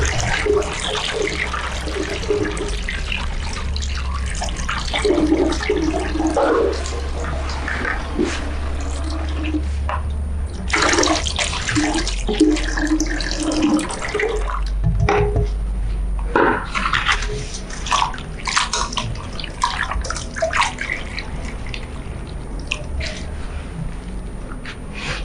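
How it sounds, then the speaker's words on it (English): Continuous splashing and sloshing of water as water leaf greens are swished and rubbed in a basin, steady and close, with occasional louder swirls. "When you are washing water leaf, make sure you use a lot of water."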